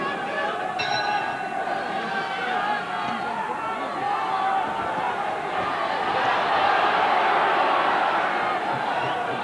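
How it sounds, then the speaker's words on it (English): Arena crowd at a professional boxing match between Duke McKenzie and Dave McAuley, a steady roar of chatter and shouts that swells slightly, with a commentator talking over it. "This crowd beginning to sense now the drama building"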